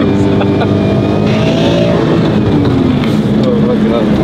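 A car engine warms up at a Sunday auto club meet, with a loud, steady rumbling idle and slight rises in pitch, close by and continuous, while people talk over it.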